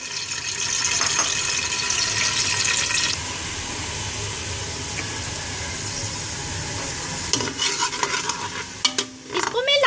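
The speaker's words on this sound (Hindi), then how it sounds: "इसमें मैं ऐड कर दूंगी सबसे पहले जिंजर गार्लिक" Ginger garlic paste fries in oil for nihari with a continuous close sizzle and crackle, broken by clinks and scrapes of a stirring utensil toward the end.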